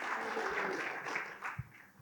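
A church congregation claps together, a dense, continuous patter of many hands at moderate loudness that thins slightly toward the end.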